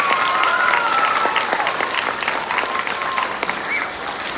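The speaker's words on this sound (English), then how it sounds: "let's give her a big round of applause" An audience applauds at a Milken Educator Award ceremony for a school, a steady wash of many hands clapping, loud and continuous throughout, easing slightly toward the end.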